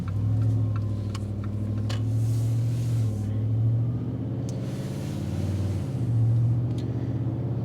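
Jeep Gladiator with a 5.7L Hemi engine cruising on rural roads, a steady low engine drone and road rumble heard from inside the cab, rising and easing slightly with a few faint clicks.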